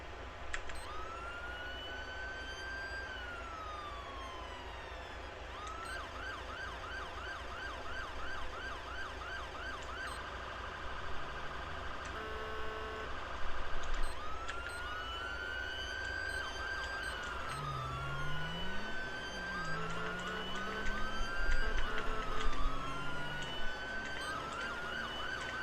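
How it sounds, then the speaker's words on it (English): Custom emergency vehicle sirens in the game FiveM wail in continuous rising and falling sweeps. The patterns change over time, and a lower siren tone joins later under faint engine rumble. "we will hear the sound of the sirens"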